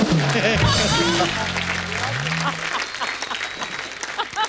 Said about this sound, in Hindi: जोरदार तालियां एक बार हंस पाजी और दलेर पाजी के लिए।